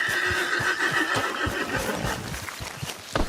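An Ardennes horse in a video game lets out a loud, near whinny at the start, followed by snorts and hoof clopping, with no talk over it.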